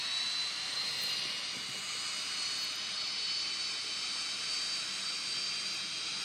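Steady broadband roar of an airplane engine in the flight game Flight Pilot Simulator during an emergency, a loud continuous hiss-like drone with no breaks and no talk.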